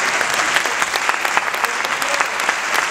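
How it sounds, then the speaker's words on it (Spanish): A crowd at a short film festival award ceremony applauds steadily, a dense patter of many hands clapping at a constant level for a few seconds. "Un fuerte aplauso."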